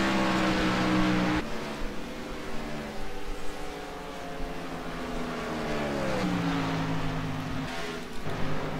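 Race cars lapping the Chicagoland oval in iRacing roar with sustained engine tones whose pitch sweeps up and down as cars close in and pass, with sharp drops in pitch marking drive-bys, loud and unbroken with no speech.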